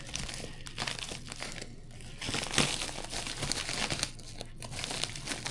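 Crinkly packaging of a mailed grab bag from Australia is opened with scissors, producing irregular crackles, rustles and short tearing bursts up close, with one sharper snap midway and no talking.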